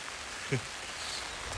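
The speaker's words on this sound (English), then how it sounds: "The nature of a rainy day to get feet wet when you're not wearing the appropriate shoes." Rain falls steadily on wet ground on a rainy day in Japan, a soft continuous hiss with one brief close knock partway through.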